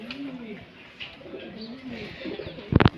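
Pigeons coo softly in low, rolling calls nearby at a pigeon house in an Indian temple ashram, followed by a brief sharp clatter near the end.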